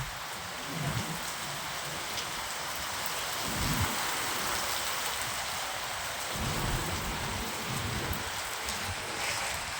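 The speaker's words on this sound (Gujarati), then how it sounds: "વાવાઝોડા સાથે વરસાદ પડી રહ્યો છે. ખૂબ જ તોફાની વરસાદ છે." Steady heavy rain pours down with a broad hiss during a storm in Vadnagar, Gujarat, gusty rumbling swells of strong wind beneath it, and no voices.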